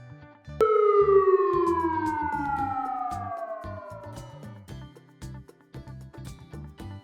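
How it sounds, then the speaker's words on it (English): A loud fire truck siren wails once and slowly slides downward in pitch, fading over several seconds while a light rhythmic beat plays underneath. "Fire truck."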